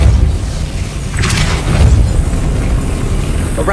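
The Depulso spell in Hogwarts Legacy goes off as a booming push with a short crackling burst, followed by a second heavy thump, over a rumbling game backdrop.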